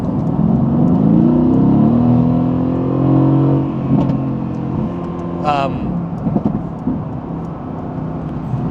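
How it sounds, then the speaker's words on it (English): A car engine revs and accelerates up close while passing a bus in traffic, a strong rising drone that eases off midway, with other traffic noise around it. "I gotta pass this bus."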